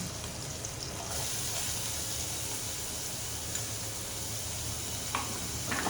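Onions fry in a pan with a steady, close sizzle that runs throughout, plus a few faint clinks. No one speaks.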